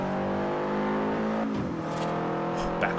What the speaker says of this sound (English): Backfiring. The exhaust.